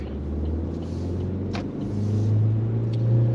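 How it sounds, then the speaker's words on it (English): A car drives past on the road while a driver waits to pull out. Its low rumble is steady at first, then swells and grows louder toward the end, with no talking. "This vehicle's going to come by, and then I can accelerate."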